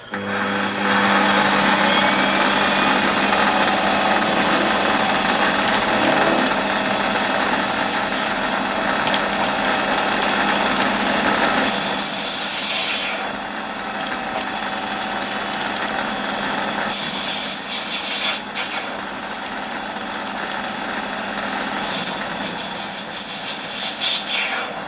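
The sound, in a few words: lathe facing and centre drilling metal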